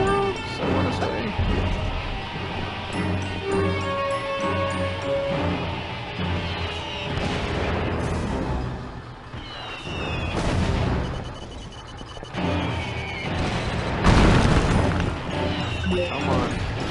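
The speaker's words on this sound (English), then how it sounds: "Oh, the stupid confusion grenade." A confusion grenade goes off in the video game Psychonauts, one crashing burst amid loud game music and clattering battle effects.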